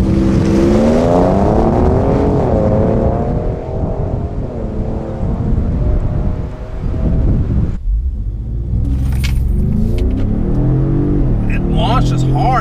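A Ford Raptor truck launches hard up an uphill grade, its engine roaring loud and close and climbing in pitch through the gears for several seconds before dropping off sharply, with lower rumbling after.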